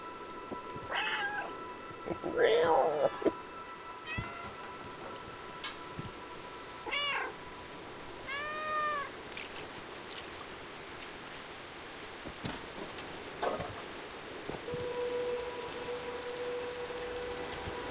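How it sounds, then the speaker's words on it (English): A cat in the video game Stray meows several times, short rising and falling calls scattered over a soft, steady patter like rain. "Press circle to meow."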